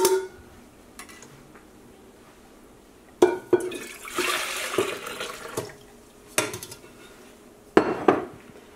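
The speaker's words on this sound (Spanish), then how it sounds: "Vamos a volver a vaciar el líquido." Hibiscus cooking liquid is poured back into a pot in a kitchen, with a few short bursts of splashing and pot clatter between quiet stretches, and no one speaking.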